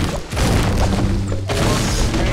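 Grenade blasts in Fortnite: loud booming explosions with heavy low thuds, a first burst cutting off sharply before a second rolling detonation follows, dense and close.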